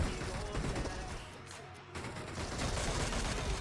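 Dense, continuous bursts of automatic gunfire in the mobile battle royale game PUBG Mobile during a team deathmatch, loud and sustained with a brief dip midway.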